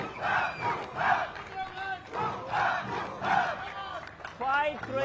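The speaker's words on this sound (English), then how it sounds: "A lot of cheering." A crowd at a tennis match during the 38th National Games 2025 in Uttarakhand shouts and cheers in rhythmic, surging waves, loud and close, with a voice rising through the noise.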